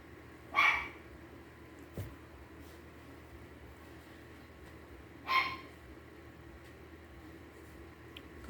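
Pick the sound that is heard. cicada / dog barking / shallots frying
dog barking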